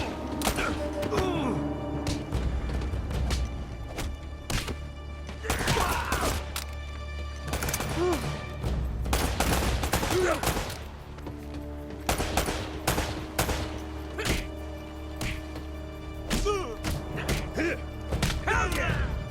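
Gunfire in the video game Uncharted: Drake's Fortune, loud repeated bursts of rapid shots and heavy impacts filling the whole stretch, with brief gaps between volleys and occasional voices underneath.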